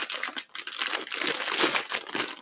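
Packaging for PC parts crinkles and crackles loudly up close, in irregular bursts of rustling plastic that keep going without a pause.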